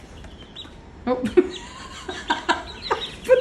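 Backyard chickens give short clucks and squawks close by, several irregular calls bunched together, while a person makes a brief exclamation among them.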